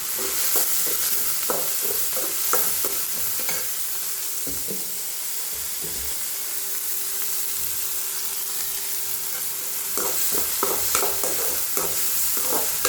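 Chopped onions and drumstick leaves are sautéed in a pan with a constant close sizzle, and regular spatula scrapes and knocks of stirring run throughout.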